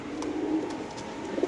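A pair of Afsan pigeons coo softly over a steady background hum and noise, the low calls blending into the busy ambience without any talk.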